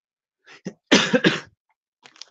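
A close cough burst with a couple of hacking pulses, preceded and followed by softer throat sounds in an otherwise quiet room.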